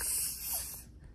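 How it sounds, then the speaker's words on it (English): A short, close burst of glue-on hair spray for a wig, a bright aerosol hiss lasting under a second that then cuts off to near silence. "And then this is a glue on spray."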